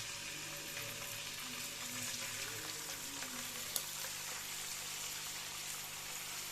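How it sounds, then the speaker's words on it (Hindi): Slices of beef pasanday fry in hot oil in a home kitchen pan, giving a steady, close crackling sizzle that holds evenly throughout, with faint stirring clinks and no talk. "तो सबसे पहले हम इनको पसंदों को जो है वो इस तरह से फ्राई करेंगे।"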